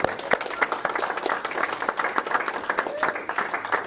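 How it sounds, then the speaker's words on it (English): An audience claps for Jean-Michel in a steady round of applause, dense and fairly close, with a faint voice beneath the clapping throughout. "Let's give Jean-Michel a big round of applause."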